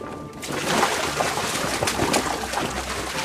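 Foley water churned and sloshed in a large tub to mimic a boat pushing through waves, a steady splashing wash that runs continuously at close range with no voices.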